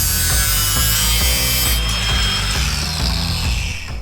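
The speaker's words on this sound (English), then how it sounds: "So I'll trim the excess steel off" A power tool trims excess sheet steel off a wheel arch repair panel on a Ford Landau hardtop coupe, a loud continuous grinding whir with a harsh high edge that shifts pitch partway through.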